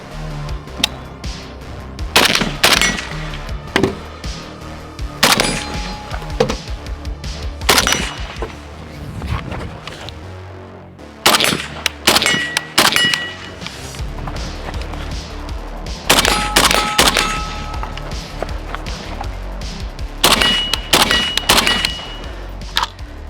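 A PSA 556 KRINK rifle fires on a shooting course in long strings of loud, sharp shots with brief pauses between groups, each crack followed by ringing echo and occasional metallic clangs.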